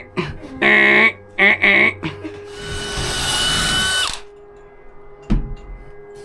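A power drill drives bolts into a wooden treehouse frame: a few short revving bursts, then a longer grinding run as a bolt seats, ending with a solid thump, loud and close.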